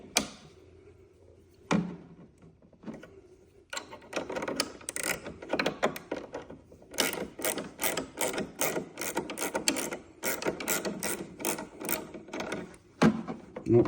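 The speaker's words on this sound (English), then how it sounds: "Same process, stick it in my Allen wrench" An Allen wrench turning an adjustment screw, giving a run of quick, dry clicking and scraping ratchet-like ticks close up after a few isolated knocks, steady and repetitive with no voices.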